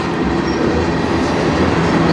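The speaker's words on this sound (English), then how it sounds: "Decently length train." A long CN freight train rolls steadily past on the Strathroy Subdivision, a dense continuous rumble and clatter of railcars held close and loud throughout with no voices.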